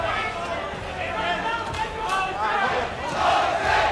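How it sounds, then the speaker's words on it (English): A boxing arena crowd chants "Jose" during a fight involving Tyson, a loud rhythmic mass of voices that swells and holds steady throughout with no clear individual speech. "Crowd taking up a chant of Jose"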